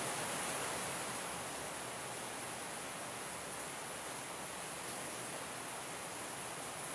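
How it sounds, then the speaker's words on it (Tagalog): Heavy rain pours without a pause as a dense, even hiss of broadband noise. It is steady and fairly faint throughout, with no other sounds. "Kahit dito, malakas yung ulan ng ulan."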